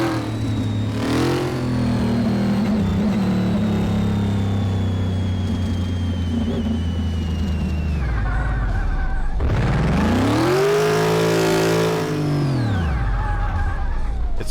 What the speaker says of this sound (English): Oh, it sounds mean. Oh, this Rino Piccolo is so mean.